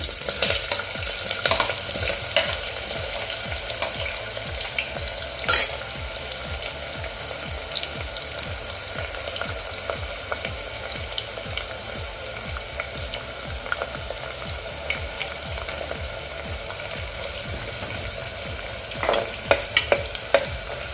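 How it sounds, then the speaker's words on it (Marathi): Green chilies, onion and curry leaves fry in a pan for a spiced rice dish, a steady close sizzle running throughout with occasional stirring clatter and a couple of sharper scrapes, no talking. "आता मी पहिल्यांदा या दोन मिरच्या घालून घेते त्यानंतर मी कांदा आणि कढीपत्ता सोबतच घालते"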